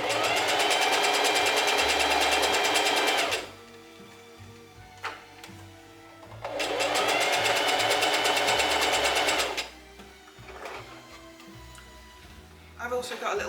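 Domestic sewing machine stitching through fabric in two loud, steady runs of several seconds each, separated by quieter pauses with small handling clicks and a short burst at the end.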